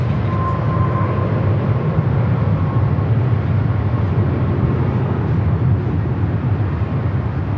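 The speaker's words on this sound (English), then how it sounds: "This arrival is United Airlines 1164 coming in from San Francisco on the A320" United Airlines Airbus A320 arriving at Los Angeles airport, a continuous broad jet roar heard at a distance, steady and moderately loud with a faint whine, no talking over it.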